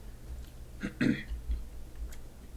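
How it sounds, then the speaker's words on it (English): One person clears their throat with a short rough cough, faint and close, against a quiet room hum. "apologies if I start coughing a bit"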